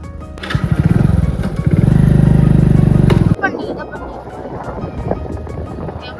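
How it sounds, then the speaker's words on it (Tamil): A motorcycle engine revs loudly near the microphone at a dam site in India, rising to a steady drone before cutting off abruptly, leaving outdoor background noise. "வண்டி பார்க் பண்ணிட்டுருக்கோம்"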